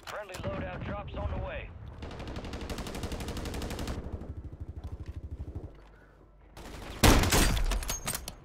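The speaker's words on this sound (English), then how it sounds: "Just sniped a guy, but I didn't kill him" Video game gunfire from a squad battle: a long rattling burst of rapid shots, then a pause and a loud heavy blast followed by more fire, all close and sharp.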